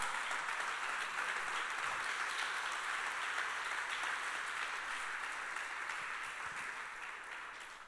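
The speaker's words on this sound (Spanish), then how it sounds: "¿Qué te parece si le das un aplauso al Señor?" A church congregation applauds steadily for several seconds, a dense wash of clapping that fades slightly toward the end.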